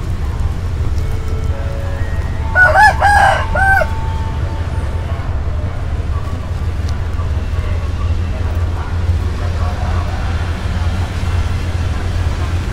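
A fighting rooster crows once, somewhat distant, at Khlong Tan railway station in Bangkok, over a constant rumble of traffic and background noise.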